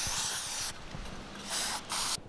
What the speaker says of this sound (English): cleaning out the inside of it with some brake cleaner